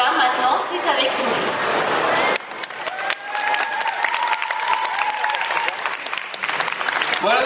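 Audience applause for actors at a Paris manga and sci-fi convention Q&A session, a loud, sustained crowd clapping throughout, with a sharp shift partway through and some voices and cheering mixed in.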